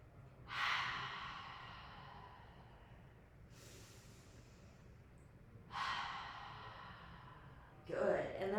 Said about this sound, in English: So an inhale and then exhale out through the mouth.